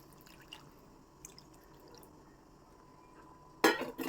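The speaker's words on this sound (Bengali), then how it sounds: "তাই বেশ অনেকটা জল দিয়ে দেব।" Hot water is poured into a pan of thin Bengali chicken curry, a short loud splashing pour arriving near the end after a few seconds of quiet kitchen background with faint drips.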